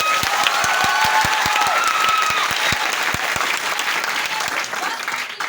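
Loud, dense audience applause with some cheering, rhythmic claps standing out, gradually easing toward the end.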